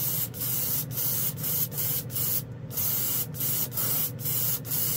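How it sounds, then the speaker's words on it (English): Airbrush spraying Inspire chrome and candy gold paint onto a Moto MX-05, a steady hiss broken by regular short pauses about every half second, close and alone. "Airbrush is great for this."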